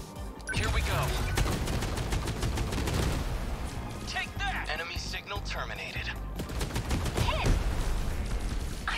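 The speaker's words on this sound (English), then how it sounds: "What about the rapid cannons?" Rapid cannons fire in the mech video game 13 Sentinels as dense, fast bursts of sharp mechanical shots, loud and continuous across the clip, mixed with game effects and brief bits of talk.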